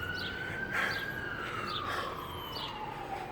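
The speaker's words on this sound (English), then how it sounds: "that's an ambulance" An ambulance siren wails as it passes at moderate distance on a street in Fulton, Mississippi, its steady rising and falling tone sliding lower as it goes by, with bird chirps mixed in.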